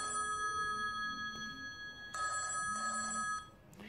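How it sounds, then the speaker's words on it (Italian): A smartphone rings with an incoming call that also shows on a budget Hafury fitness tracker smartwatch: a steady electronic ringtone with pulsing tonal phrases, moderately loud and unbroken by talk. "Vedete, ecco la chiamata."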